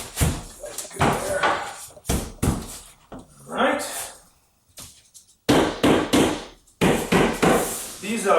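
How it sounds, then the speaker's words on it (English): Dead blow hammer tapping a cabinet side into place during upright assembly of a tall RTA cabinet, giving sharp, dull knocks in short bursts, close by and with talk in between. "These dead blow hammers are phenomenal."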